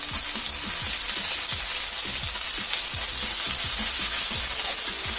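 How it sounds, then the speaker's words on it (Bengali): Chili, ginger and garlic pastes frying and being stirred in a pan, a steady close sizzle with repeated scraping strokes of a spoon, no talking. "আদা বাটা দিয়ে একটু নাড়াচাড়া করে নিলাম"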